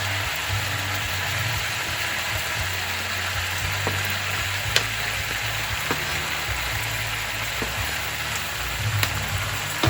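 Cabbage from the garden going into a hot pan, frying with a steady broad sizzle and crackle, a few sharper pops standing out, with a low hum underneath and no talk.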